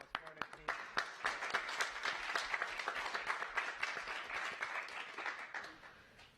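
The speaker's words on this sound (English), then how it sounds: "join me in applause for the team" An audience applauds the NASA Ingenuity Mars helicopter team after its first flight, a sustained round of many hands clapping with a few sharp, close claps at the start, steady throughout before thinning out at the end.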